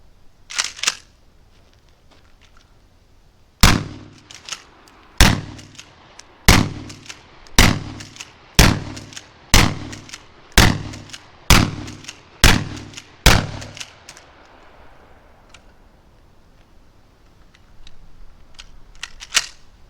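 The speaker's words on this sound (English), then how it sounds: "Let's run it through, see how they all cycle." A 12 gauge Mossberg 590 shotgun fires buckshot short shells outdoors, about ten loud booming shots at a steady pace of roughly one per second, each followed by a short echo, with quiet before and after.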